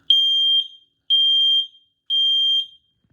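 A Nest Protect smoke alarm sounding during a self-test, giving three loud, piercing, evenly spaced beeps, each about half a second long and separated by short gaps.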